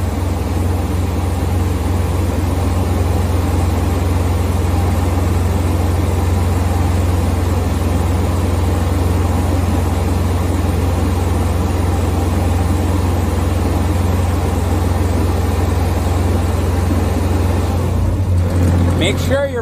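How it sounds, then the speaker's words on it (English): The engine of a Sullair 185 T4 air compressor drones loud and steady at close range, a constant low hum that shifts and drops slightly near the end as it idles down. "You're gonna hear the engine idle down at this point once you start hitting 50."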